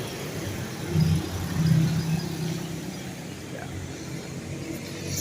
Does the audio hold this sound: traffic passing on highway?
yes